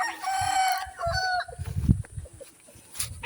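Chickens and a rooster at a farm coop: a rooster crows loudly near the start, then low clucking and scattered hen calls follow, close by with no talk.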